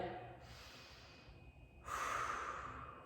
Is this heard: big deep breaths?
yes